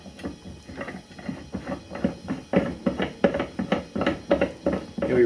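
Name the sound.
punch holder being screwed down a threaded swaging press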